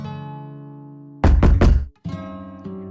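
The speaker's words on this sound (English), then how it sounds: "Hear the forceful knocking of my father banging on my door" A father forcefully banging on a bedroom door in a DDLC mod: three heavy, loud thuds in quick succession cut through a sustained musical tone, which resumes after the knocks.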